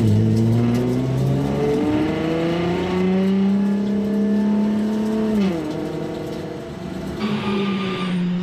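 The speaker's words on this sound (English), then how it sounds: "And the formation lap starts." Race cars of the Nürburgring 24 Hours 2011 on the formation lap, engines droning and rising in pitch together as the pack moves off, a dense, steady multi-car roar that dips briefly before resuming.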